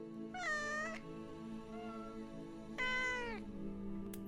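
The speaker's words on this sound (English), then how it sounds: "starts meowing." A cat meows twice, loud and close, two drawn-out wavering cries separated by a pause, over a steady low background hum.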